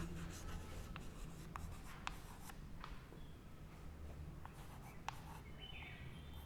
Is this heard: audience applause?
no